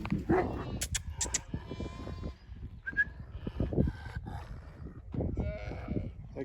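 Herding dogs bark and yelp among bleating and lowing livestock outdoors in a village, a busy mix of animal calls at moderate distance.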